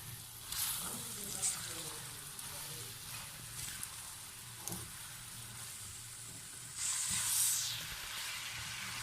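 Lentils and spices roast in a pan for an achari chicken and vegetable dish, a soft steady sizzle with occasional stirring scrapes and a brief louder burst of frying near the end.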